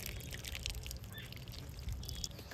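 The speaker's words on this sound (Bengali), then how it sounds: "এবারে তালটা ভালো করে ধুয়ে নেব।" Water running over a palm fruit while it is washed: a steady splashing, trickling wash of water, moderately close and continuous, with no talking.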